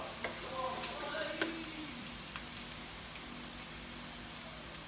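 Garlic frying in a pan until golden, a soft steady sizzle with a few stirring clicks and taps, fairly quiet and close, with no talking over it.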